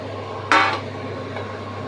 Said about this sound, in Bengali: আমি এখন আস্তে আস্তে এই মাছ আর বেগুনটা এর ভেতরে দিয়ে দিচ্ছি